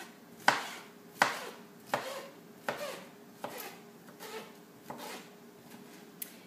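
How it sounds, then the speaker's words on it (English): A knife slices down through pineapple on a cutting board in a steady series of about eight sharp, close chops, each followed by a brief scrape as the blade cuts through the fruit, with no talking. "I just slice them a few times like this, and I spin them and slice down like this."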